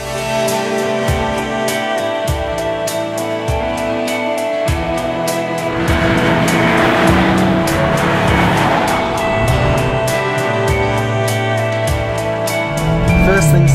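A Vauxhall Lotus Carlton's V8 engine heard from inside the cabin, a loud, steady, deep drone with a rising surge partway through as the car pulls.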